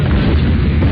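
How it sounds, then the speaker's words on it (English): A loud, short burst of crashing roar from a train crash, dense and booming throughout, like a heavy violent impact. "That's the sound of a train crash."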